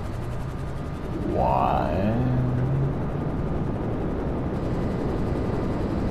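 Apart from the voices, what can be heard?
jet or helicopter flying nearby in Grand Theft Auto 5 video game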